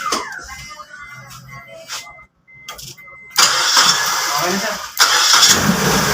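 A Mazda 323 with a no-start, no-crank fault, just cleaned, cranks and then fires into a loud, steady running engine. Brief talk and a few small clicks come first, and a second surge of revving follows.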